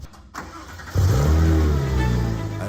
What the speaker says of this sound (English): he had sent a walk around video including a cold start